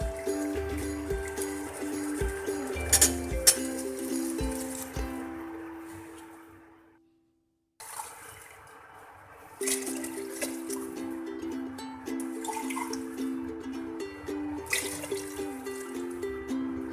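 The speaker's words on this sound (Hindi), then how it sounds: "4 गिलास पानी डाल दिया है हमने" Water, four glasses in all, splashes and trickles into a pot holding nihari meat and bones in two bursts separated by a brief silence, the pouring close and fairly loud with clinks of the vessel.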